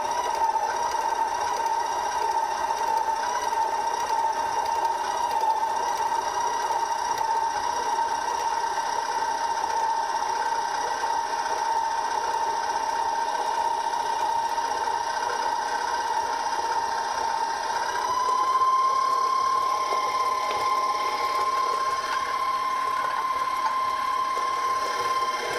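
An electric mixer whirs steadily while creaming fruitcake batter with eggs, a continuous close mechanical hum whose pitch rises slightly toward the end, no talking.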